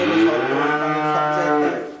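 A Holstein Friesian cow moos loudly and close, one long, steady, deep call lasting about two seconds.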